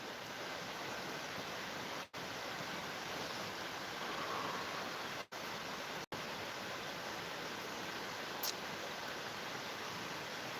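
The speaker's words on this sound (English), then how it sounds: "The sound of a little river there doesn't bother" A little river flows in a steady, soft broadband hiss through a long stretch, with a few brief dropouts and no one talking over it.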